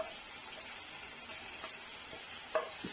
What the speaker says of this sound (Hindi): तो अब इस स्टेज पे हम डालेंगे 1 चम्मच जो है वो कटी हुई हरी मिर्च और 2 हमने टमाटर बारीक चॉप किए हुए हैं